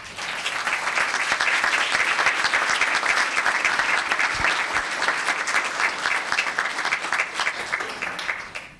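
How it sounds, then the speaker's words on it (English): Sustained applause from a large audience at a town council meeting, steady and loud clapping filling the whole stretch without letup. "Let's give them one more round of applause."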